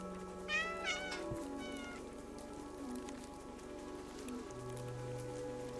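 A cat meows in the video game Stray, one or two short meows near the start over steady rain pattering on surfaces, with soft game ambience underneath.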